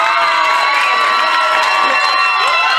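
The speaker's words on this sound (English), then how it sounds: "Claps and noise for contestant number 2." An audience at a Sunday afternoon lime cheering for a contestant, a loud sustained roar of shouting, whooping and high excited voices, with some clapping beneath.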